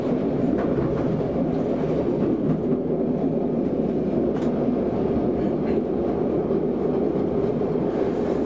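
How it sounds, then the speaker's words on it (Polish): Cab ride aboard a Swedish Y6 railcar, built 1953–1960, running on the line toward Helsingborg: a steady, fairly quiet low rumble of wheels on track with faint rhythmic clicks, unbroken throughout. "Jazda pociągiem Y6 jest spokojna, nie trzęsie i jest w miarę cicho."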